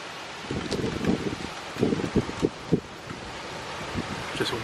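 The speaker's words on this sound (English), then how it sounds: "Just windy as hell right now." Strong gusts ahead of an approaching storm with lightning and drizzle buffet the microphone outdoors, coming in uneven bursts of rumbling wind noise over a steady rushing background.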